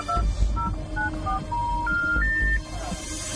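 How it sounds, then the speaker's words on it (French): A telephone on speakerphone dials a number by itself: a rapid run of distinct DTMF beeps, each at a different pitch, then a longer held tone, clear over a low steady hum from a television in a living room. "Le téléphone s'est mis en haut-parleur et a composé un numéro."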